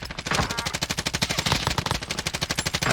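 PKM machine gun in Call of Duty Warzone firing a long sustained burst, loud and close, with rapid evenly spaced shots running the whole stretch without pause.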